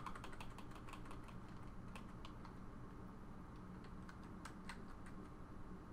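Computer keyboard keys pressed in a steady, uneven run of quiet clicks, faint and close, with no talking, while buttons are set up during a RetroPie controller configuration.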